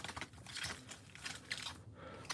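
A deck of Magic: The Gathering cards being shuffled, quiet and close, with rapid papery riffles and soft flicks in uneven bursts and no talking.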